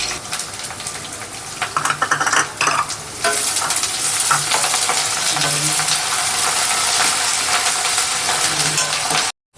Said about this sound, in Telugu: ఇవి కూడా ఆనియన్స్తో పాటు ఫ్రై చేసుకోండి బాగా.